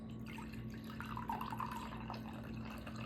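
Water trickles and drips softly as it is poured into sourdough flour, a faint continuous splashing over a steady low background hum with no talk.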